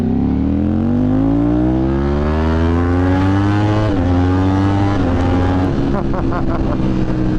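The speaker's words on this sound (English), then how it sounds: "I love how rowdy this bike is, man." Loud, close X1K motorbike engine revving with a rowdy, throaty roar, its pitch rising and sliding down, then settling into a rough, sputtering idle.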